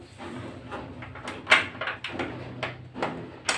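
A door pulled open, heard as a few close knocks, rattles and a louder clack over a low room hum, with no speech.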